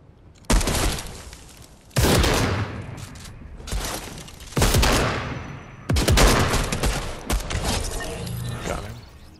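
Pistol gunfire in Fortnite: a handful of loud, close shots spaced a second or two apart, each with a sharp crack and a rattling, decaying tail.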